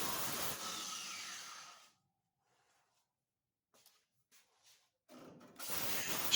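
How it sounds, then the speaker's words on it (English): A 7-inch cutoff wheel rough-cuts a car trunk pan with a loud, harsh hissing grind up close. It fades out, leaves a quiet gap with a few faint knocks, then cuts back in loudly. "using a 7-inch cutoff wheel, we'll do a rough cut on that"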